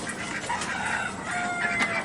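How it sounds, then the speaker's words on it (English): Young Orpington hens, not yet a year old, clucking on a farm, a busy overlapping chorus of soft clucks and short calls that holds steady and fairly close, with no talk over it. "Oh, we got a pretty hen in here."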